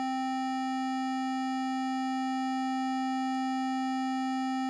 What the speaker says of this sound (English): So if I play the tone without the frequency modulation